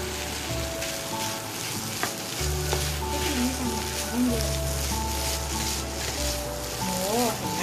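Tuna fried rice is stir-fried in a pan with a little oil, giving a dense steady sizzle with faint scraping throughout, while low hums and soft voices run in the background.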